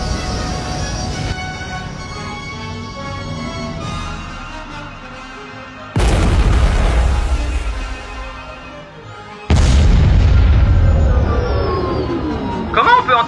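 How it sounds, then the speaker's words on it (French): Two sudden, heavy explosions burst out in a space scene, each a loud broadband boom with a deep rumble that slowly fades, rising over a quieter backdrop of music and effects. "Comment on peut entendre des explosions dans l'espace?"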